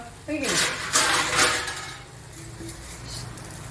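A lid set down over a dosa pan on a home stove gives a brief metallic clatter, followed by a low, steady kitchen hum.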